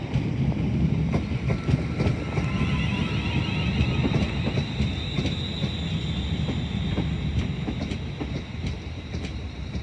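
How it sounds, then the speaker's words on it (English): A train from London Euston passing through Crewe station on the West Coast Main Line, a steady loud rumble of wheels on rails with faint squeals and clicks, close by and continuous. "And here is the service from London Euston"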